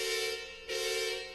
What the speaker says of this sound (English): if you mute a horn and then blow into it with all your might, you get a real nasty noise